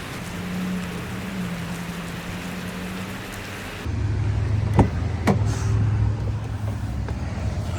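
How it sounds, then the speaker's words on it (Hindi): Heavy stormy rain pours down outdoors as a steady broadband wash, growing louder partway through, with a couple of sharp cracks and a low rumble in the later seconds. "यहाँ इस तरह से तूफ़ानी बारिश है"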